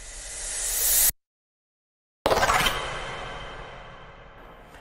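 A gritty, crunchy bitcrushed pop riser swells upward and cuts off, then after a silent gap a distorted burst hits and fades slowly into a lingering wash.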